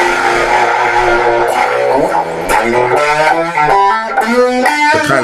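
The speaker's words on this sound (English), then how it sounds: "I'm gonna crank the distortion all the way now." A loud, saturated electric guitar through a Stiff Hippy II overdrive with maximum distortion plays a riff of changing fuzzy notes and chords, each sustaining into the next in a steady, metal-like run.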